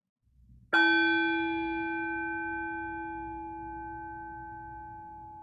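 A meditation bell is struck once and rings out clearly, its pure sustained tones fading slowly over several seconds with nothing else around it.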